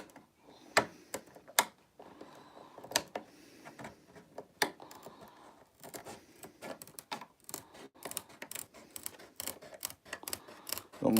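Scissors snip through a clear Proline RC car body shell, with a steady run of sharp cuts, some spaced, some quick in succession, close up and alone with no talk.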